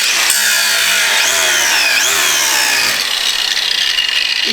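Close, loud power-tool cutting on a plastic front bumper of a 5th-gen Toyota 4Runner, a steady high-pitched whine with rising and falling pitch sweeps as the blade trims a small piece, continuing throughout without talk.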